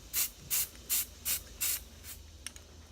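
An aerosol spray can sprays paint onto a homemade garage sign stencil in five short even bursts, then a weaker sixth hiss, each one a close, sharp spray with brief pauses between.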